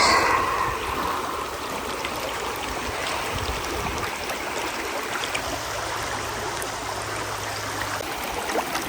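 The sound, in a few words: strong water flow of Ha Ha Tonka Spring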